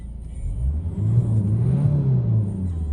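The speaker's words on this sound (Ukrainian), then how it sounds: "Спробуємо погазувати і подивимося, як нас змінюється значення" A 2011 Renault Megane with a 1.5 diesel engine and turbo is revved from idle, its close, steady engine note swelling into a throttle blip and then settling back, with no talking.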